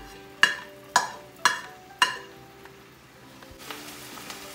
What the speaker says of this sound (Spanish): vamos a saltear el ají, la cebolla. Tiene un poco de apio y vamos a hacer un rico sofrito